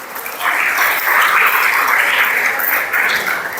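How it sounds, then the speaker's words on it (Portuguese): A church congregation claps together in a loud, dense burst of applause that holds steady for a few seconds, with no talking. "Quem dá uma salva de palmas no Senhor?"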